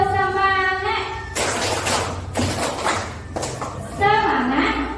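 A group claps the rhythmic tepuk semangat cheer in a classroom-style session, with dense bursts of hand claps alternating with loud group chanting before and after.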